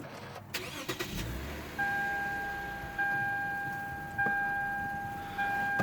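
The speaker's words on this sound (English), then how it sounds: "getting ready to restart the car now" A Lexus IS250 that has just had a Seafoam treatment cranks briefly and starts, settling into a quiet idle while steady electronic chime tones repeat in the background.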